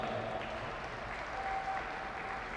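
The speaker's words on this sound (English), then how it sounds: "please put your hands together for just a minute for these kids" An audience claps steadily for junior exhibitors at a market cattle show, a continuous wash of applause from a moderately distant crowd throughout.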